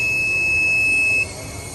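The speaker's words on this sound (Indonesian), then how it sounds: "kenapa buzzer itu bunyi?" A buzzer on a prototype IoT smoke and temperature detector sounds a loud, steady high-pitched tone for about a second, then cuts off, leaving faint room noise.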